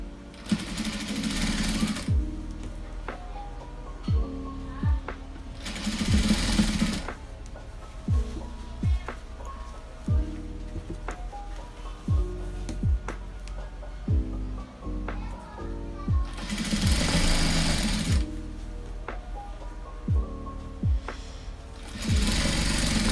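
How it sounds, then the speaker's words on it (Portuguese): A sewing machine stitches bias binding onto a cloth diaper, its motor running in a steady mechanical whir with regular clicking needle strokes and short surges in speed. "começa a costurinha aqui, pra prender o viésinho aqui"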